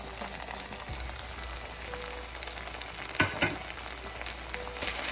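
Spices sauté in hot oil for chicken tikka masala, a soft continuous sizzle and crackle with a few stirring clinks and scrapes, fairly quiet and close, with no voices.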